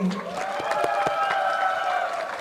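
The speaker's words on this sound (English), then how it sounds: "Yeah, cheer for him." Crowd cheering and clapping for a race driver at a Porsche Carrera Cup Asia podium ceremony at Sepang, steady applause with a voice talking over it.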